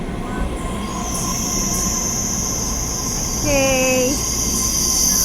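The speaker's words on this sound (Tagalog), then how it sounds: "White na white pa naman ang train nila." A long train rolls through a station in Taiwan, a steady loud rumble with high wheel squeal throughout and a brief rising whine near the end. A person speaks one short word.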